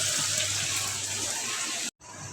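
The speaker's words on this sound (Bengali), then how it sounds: "এই যে আমি জলটা দিয়ে দিছি" Water pours steadily into a pot of duck meat curry for about two seconds, a close, full gushing stream that then stops abruptly, followed by a quieter continuing trickle.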